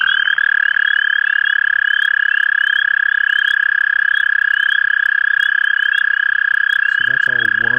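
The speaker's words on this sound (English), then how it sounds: "we're going to see an example from the American toad" An American toad calling, a loud sustained high-pitched trill held steadily for several seconds, with a brief voice entering near the end.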